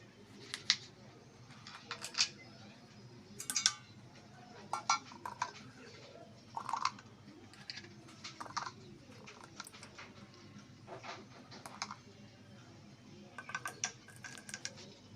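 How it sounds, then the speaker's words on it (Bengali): A knife cuts green tomatoes on a board, giving faint, quick taps in short irregular clusters over a soft, steady background hum. "তো আমি টমেটোগুলো কেটে নিচ্ছি।"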